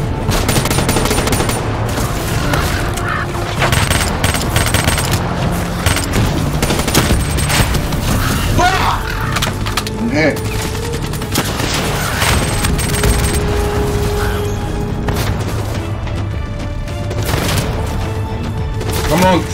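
Gunfire in the video game Call of Duty: Black Ops 3 crackles almost without a break, with bursts of automatic fire, single shots and booming explosions. Players talk loudly over the continuous, dense battle noise.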